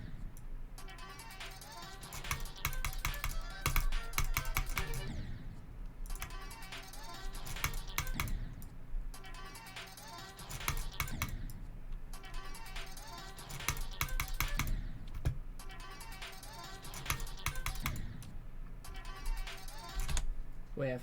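Fast, dense keyboard and mouse clicking during computer gameplay, coming in rapid bursts separated by brief pauses, close and moderately loud, with a person's voice now and then.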